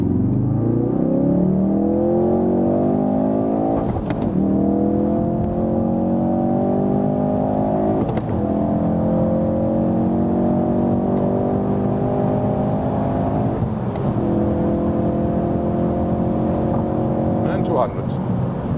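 A 350 hp Ford Focus RS engine revs hard on the Autobahn and climbs steadily in pitch, dropping briefly at each of several gear changes, loud and close throughout.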